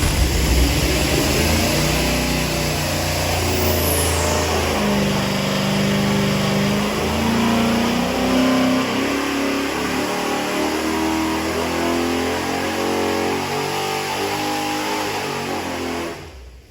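A 9.3 liter big block V8 roars on an engine dyno during a pull, a loud sustained rev that climbs steadily in pitch over many seconds before cutting off at the end, heard alone without speech.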